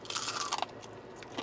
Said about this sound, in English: They're not greasy, packed full of flavor, and listen to the crunch.